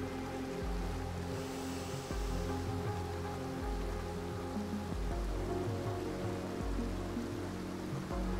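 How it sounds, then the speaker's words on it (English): Steady, full rush of falling water from a waterfall in the game Tunic, a dense continuous roar with low churning, heard close and alone without any voices. "Let's take a look at this waterfall."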